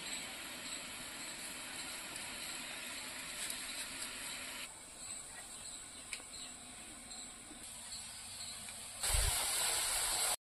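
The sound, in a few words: red tamarind boiling in water in a pot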